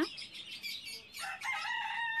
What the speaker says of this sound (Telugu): ఓకే, ఇవి కోడి పుంజులు, అరబ్బీలో దీచ్ అంటారు.